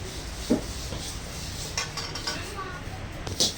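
Coriander seeds are dry roasted in a pan, with a few faint clinks and scrapes of a spoon against the metal. Quiet talking runs underneath.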